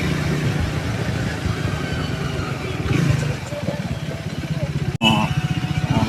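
A Triumph Speed 400 motorcycle being ridden, its engine throbbing steadily and close with a rhythmic low pulse throughout and a brief dropout, while a rider talks over it.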